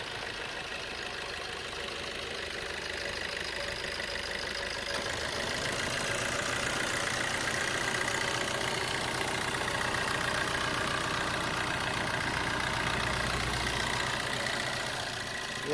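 A Maruti Suzuki S-Cross from 2016 idles in good running order, its engine giving a steady, even hum from start to finish with no talking.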